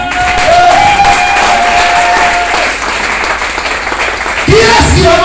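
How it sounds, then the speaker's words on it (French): A church congregation acclaims and applauds together, a loud sustained mass of clapping and cheering voices from many people, with a few shouts rising over it near the end. "donne-moi une acclamation ce matin"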